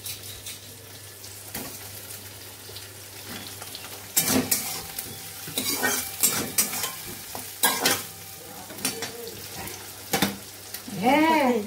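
Potatoes fry in a pan with ginger, garlic, onion and green chilli, a soft background sizzle broken by several loud bursts of stirring and scraping, close to the listener.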